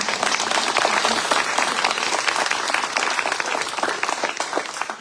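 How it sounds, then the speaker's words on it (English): Sustained applause from an audience for Leanne at the close of a Kansas heritage history program, steady dense clapping throughout without a break. "Before we give Leanne her well-earned round of applause."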